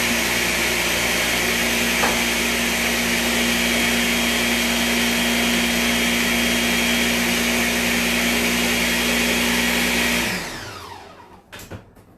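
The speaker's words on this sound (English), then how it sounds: "I'm going to blend this a little bit more." Kitchen blender whirring steadily through tomato sauce made with tomato paste, a loud continuous motor drone for about ten seconds before spinning down and stopping.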